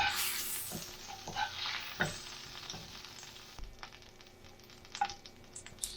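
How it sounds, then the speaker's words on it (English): Tomatoes fry in a pan for a burger, a quiet sizzle under repeated scraping and tapping of a utensil against the pan, some sharper clinks, close and fairly soft, no talking. "So the reason why I'm frying these tomatoes is, again, for us to have that kind of charcoal grilled flavor"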